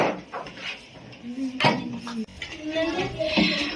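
Plates and dishes clatter in a few sharp knocks during a no-fire cooking activity in a kitchen, with people talking throughout.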